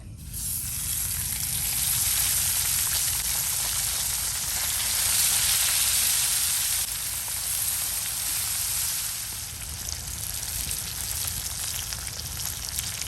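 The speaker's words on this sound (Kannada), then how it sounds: "ಒಂದು ಮೀನನ್ನು ಮಾತ್ರ ಈಗ ಫ್ರೈ ಮಾಡಿ ನಿಮಗೆ ತೋರಿಸ್ತಾ ಇರೋದು" Tongue fish frying in oil on a hot tawa, a steady close sizzle and crackle that holds loud and even throughout, easing slightly toward the end, with no voices.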